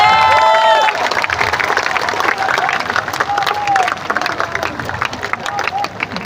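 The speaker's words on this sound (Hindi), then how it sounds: "जोरदार ताली बजाइए।" Audience applause and crowd noise at a political party launch, steady clapping with some cheering filling the room, starting with a few brief voice-like tones.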